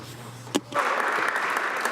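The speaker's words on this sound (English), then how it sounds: "it's wonderful to see the Member of Opposition applaud our success as a government" Applause breaks out in the Canadian House of Commons during Question Period, a broad steady patter of many hands clapping that starts abruptly and carries on evenly.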